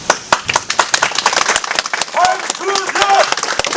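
Crowd at a Korean election candidacy press conference breaking into rhythmic clapping and cheering, with shouted voices and chanting over dense, close applause.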